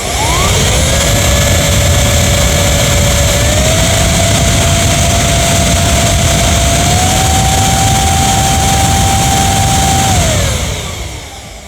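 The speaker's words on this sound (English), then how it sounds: "this battery-powered air duster is going to be quite loud" A battery-powered compressed-air duster runs right next to the listener, spinning up to a loud, steady high-pitched whine with a strong airy rush, holding for about ten seconds, then winding down.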